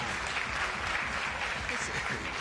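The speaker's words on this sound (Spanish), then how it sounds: "Fuerte el aplauso" Applause from a studio audience at a live evening radio or TV show in a hall, moderate and fairly distant, with a voice or murmur faintly mixed in.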